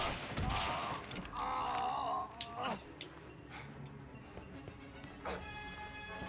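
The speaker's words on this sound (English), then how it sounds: "I think there's still somebody trying to shoot us" Enemy gunfire in the Indiana Jones and the Emperor's Tomb video game: a handful of sharp shots and impacts land in quick succession at moderate distance, faint beneath game effects and brief spoken remarks.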